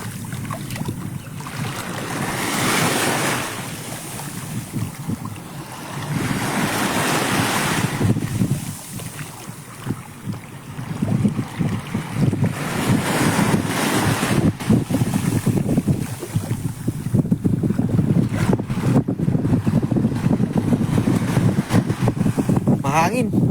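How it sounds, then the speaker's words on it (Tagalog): Strong wind blows at sea on a net-fishing boat, roaring and rumbling against the microphone in surging gusts over waves, loud throughout, with voices talking underneath at times. "mahangin mga idol."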